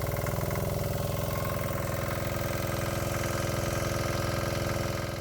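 A Cushman Desperado diesel-electric golf cart's diesel engine runs steadily close by, a loud, even low chugging throb with no voices over it.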